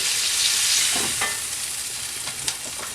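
Onion and butter smash burgers fry on a hot griddle, a dense, even sizzle close by with a few small pops and no voices.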